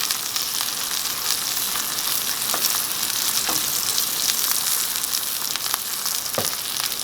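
T-bone steak and onions sizzle steadily in a cast iron pan, a loud continuous frying hiss with a few brief pops and scrapes and no voices.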